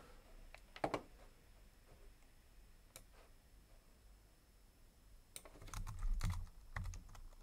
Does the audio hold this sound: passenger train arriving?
no